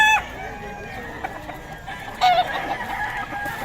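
A young gamecock (stag) at a Pampanga fowl gathering clucks and calls in short bursts, fairly close, with a louder squawk partway through over a busy background of other birds.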